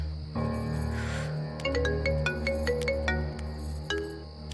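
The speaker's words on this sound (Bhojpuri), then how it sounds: "ये देखी फोन आइल बा" A phone rings with an incoming call, playing a tonal melodic ringtone of repeated chiming notes that continues steadily for several seconds and sounds fairly close.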